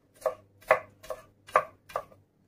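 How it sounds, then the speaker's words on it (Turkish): A knife thinly chops mushrooms on a cutting board in five steady, evenly spaced strokes, close and fairly soft, with no voices. "incecik incecik doğradım."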